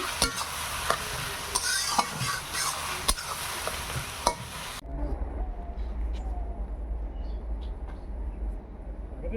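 Onions frying with salt in a pan, a steady close sizzle with stirring scrapes; the sizzle is bright at first, then the higher hiss drops away, leaving a duller low frying rumble.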